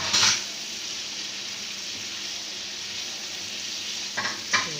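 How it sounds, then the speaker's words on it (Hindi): Steady sizzling of onions frying in a pan, a continuous crackling hiss with a few brief stirring scrapes near the start and end. "प्याज फ्राई हो रहे हैं"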